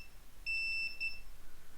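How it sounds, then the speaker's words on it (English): An electronic switch on an Adafruit Macropad, pressed down on a table, gives a short run of sharp, high-pitched beeps, close and clear, then falls quiet against faint room noise. "We're pressing it down on the table, and it just beeps."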